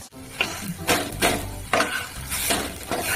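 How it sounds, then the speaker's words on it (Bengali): A patishapta pancake browns in ghee as a utensil scrapes and turns it in the pan, with repeated rough scraping strokes over a soft sizzle, close by and without speech. "ভালো করে ব্রাউন করে ভেজে নেবো।"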